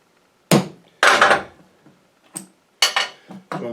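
A hammer strikes a steel center punch while marking a spot on a space heater: five sharp metallic taps, close and loud, irregularly spaced, each with a brief ringing decay.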